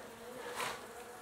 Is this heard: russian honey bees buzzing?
yes